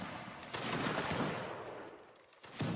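Napoleonic-era musket volley in the Napoleonic Wars video game line battle, a loud crackling burst of many shots together that fades out, then another sharp volley near the end.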